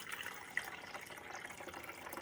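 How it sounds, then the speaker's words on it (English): Water pours steadily from a pitcher into a Mr. Coffee iced tea maker, a soft continuous splashing trickle heard close up and fairly quiet. "Now we're going to pour the water in from the pitcher."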